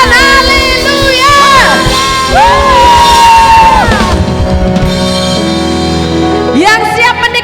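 Worship service congregation cheering and shouting praise, sustained loud sung and yelled voices swelling together, with clapping faint beneath the crowd of voices.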